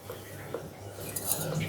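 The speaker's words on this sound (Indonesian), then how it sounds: "kita cukup ngaduk-aduk aja begini ya, tanpa mixer juga" Bread dough for chocolate-filled fried rolls is stirred by hand in a bowl without a mixer: quiet, close clinks and scrapes of a utensil against the bowl over a brief span, with no talking.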